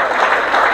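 Applause from a Marathi lecture audience, steady dense clapping filling the short moment at even loudness with no break.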